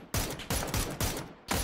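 Rapid gunfire in a PUBG match, four loud evenly spaced shots cracking close by, each with a short booming tail, no talking.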